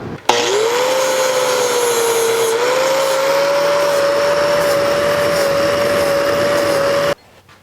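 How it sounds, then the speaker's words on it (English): An angle grinder runs hard against metal welds, a loud continuous high whine with grinding hiss that holds steady for about seven seconds before cutting off abruptly. "Now, I just need to grind on it a little bit, and you won't be able to see the welds"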